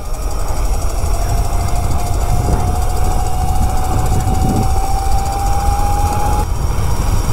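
Electric motor of a homebuilt 50 MPH mini bike running at 75% power, a loud steady whir with a rising electric whine, close and continuous, cutting off near the end.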